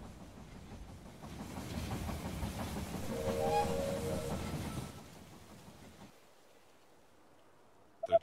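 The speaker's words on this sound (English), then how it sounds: "The train has arrived at the station." A train pulling into a station in the strategy game They Are Billions, a rumbling, clattering roll that swells to a peak midway, then cuts to quiet, ending with a brief click.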